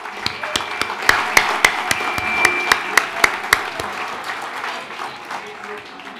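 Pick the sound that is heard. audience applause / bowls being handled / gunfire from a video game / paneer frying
audience applause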